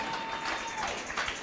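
Congregation clapping at a midnight church service, a dense, even wash of applause from many hands, moderately distant and steady throughout.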